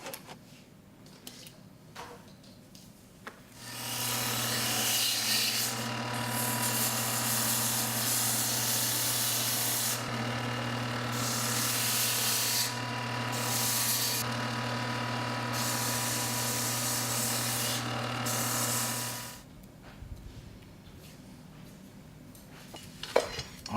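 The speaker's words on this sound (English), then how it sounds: "I'm going to use a sander to rough it out, to round off." A sander rounds off a strip of baleen, a steady whirring drone with a low motor tone that starts abruptly, runs for about fifteen seconds with changing grinding texture, then stops, close and without speech.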